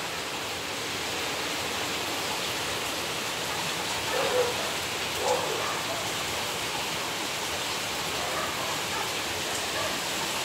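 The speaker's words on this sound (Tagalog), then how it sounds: "Maulan, maulan. Maulan na hapon, guys." Steady afternoon rainfall, a continuous even hiss of drops that holds at the same level throughout, with a couple of slightly louder patters near the middle and no voices.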